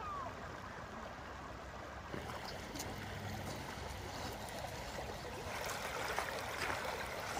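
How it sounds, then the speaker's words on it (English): Johnson Creek, a fairly deep, fast-running stream, flowing in a constant outdoor wash of rushing water that holds steady and fairly faint throughout. "The creek is a little deep and a little fast for Shadow to wade in."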